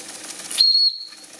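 The steam whistle of an Empire #90 toy steam engine gives a thin, high, steady tone lasting about half a second, opening with a hiss of steam, close and moderately loud.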